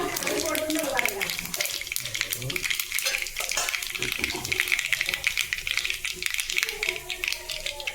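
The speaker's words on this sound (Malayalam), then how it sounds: "അപ്പോൾ കടുക് കടപടാന്ന് പൊട്ടിക്കൊണ്ടിരിക്കുന്നുണ്ട്." Mustard seeds splutter and crackle in hot coconut oil in a pan for sambar, a steady dense frying sizzle with scattered sharp pops throughout, fairly close.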